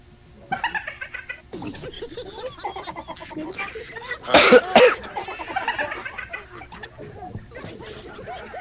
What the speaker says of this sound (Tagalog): Saglit lang, ubo ako eh.